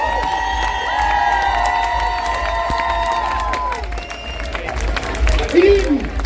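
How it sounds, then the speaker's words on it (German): Crowd cheering, whooping and applauding for a drag cabaret cast at an outdoor Pride event on Hamburg's Reeperbahn, a loud sustained roar with scattered shouts and whistles throughout. "nochmal ein großer Applaus für den gesamten Cast von Urban Jungle aus dem Pulverfass Travestie Cabaret"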